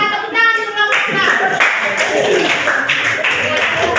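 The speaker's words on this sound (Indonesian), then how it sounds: "Tepuk tangan untuk kelompok" A classroom of students claps for a presenting group, a burst of brisk hand clapping that swells after a brief opening and continues close and fairly loud, with some voices mixed in.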